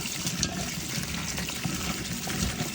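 Galangal, lemongrass and herbs being washed in water for a Thai soup, a steady close splashing and running-water wash with no pauses and no talking.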